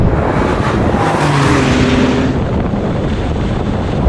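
Loud, steady roar of cars accelerating hard side by side in a BMW M3 versus Porsche 911 drag race, a dense engine and wind rush that holds level throughout with a faint tonal whine rising in the middle.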